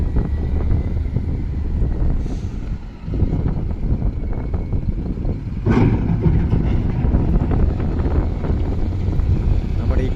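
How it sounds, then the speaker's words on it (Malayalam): Strong wind buffets the microphone at a road construction site on highway NH66, a loud, continuous low rumble with gusty surges and faint machinery underneath. "പക്ഷെങ്കിൽ നല്ല കാറ്റ് അടിച്ചുകൊണ്ടേ ഇരിക്കുന്നുണ്ട്."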